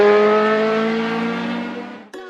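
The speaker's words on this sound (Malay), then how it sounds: "Biar aku tes power kereta ni." A car engine revving under load as it drives off, a steady rising harmonic drone that holds loud for about two seconds before a sudden shift in tone near the end.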